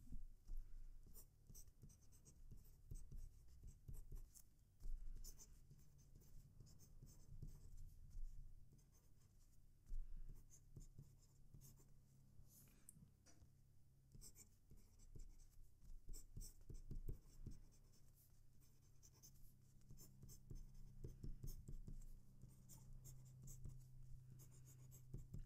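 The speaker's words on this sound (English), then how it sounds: "that's a smoother nib to write with, but as you can hear, it's still fairly noisy on this paper" A fountain pen nib scratching across paper, a quiet, close, fairly noisy rasp of strokes in irregular bursts with short pauses between words, lasting about twenty-five seconds.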